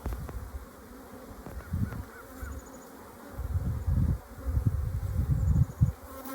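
Honey bees buzz around the hives, a continuous low droning hum that swells and fades as individual bees pass close, heard outdoors with no talking.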